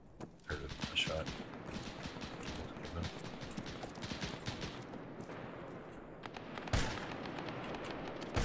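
Gunfire in a WWII shooter video game set during the Peleliu landing, with dense battle noise throughout, scattered shots and a sharper, louder report near the end, under voices talking over it.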